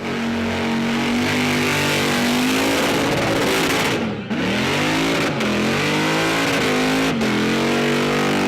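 Supercharged HQ car with a 540 cubic inch Chev engine, 1071 blower and twin 1250 Dominator carburettors, revving loud and close with a deep rumbling idle that rises and dips through several throttle blips.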